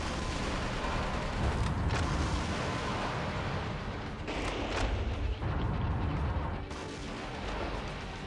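Gunfire from an M24 in the video game Metal Wolf Chaos XD, with loud continuous booming blasts and rumbling explosions filling the whole stretch, no speech.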